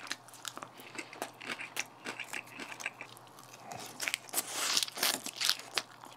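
Someone chews a crunchy salad close to the mic, with repeated crisp crunching bites in an uneven rhythm that grows louder toward the end, with no talking.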